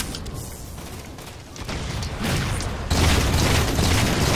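A grenade blast in Halo 4 swells into a loud, rumbling boom that builds over a couple of seconds and then holds as a dense, roaring wash.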